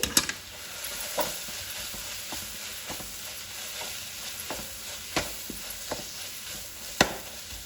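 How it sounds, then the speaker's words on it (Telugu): Ginger paste being stirred into frying gongura egg curry: a steady sizzle underneath, with intermittent scrapes and knocks of a spoon against the pan at irregular intervals, close and without talk. "1 స్పూన్ అల్లం పేస్ట్ వేసి కలుపుకోవాలండి."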